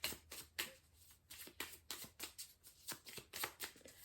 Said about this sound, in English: I'm getting you one more card just because I'm shuffling